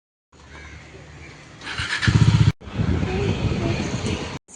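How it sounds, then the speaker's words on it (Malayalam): A motorbike ride to carry parcels to a courier or post office: a close engine rumble swells and revs for a moment, then after a brief cut gives way to a steady, loud road-and-wind roar that lasts until the end. "ബൈക്കിലാണ് നമ്മൾ കൊണ്ടുപോകണേ കേട്ടോ."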